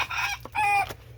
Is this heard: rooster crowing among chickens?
yes